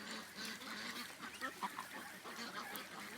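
Ducks quack and honk in a busy flock outdoors, a faint, continuous run of overlapping calls with no speech.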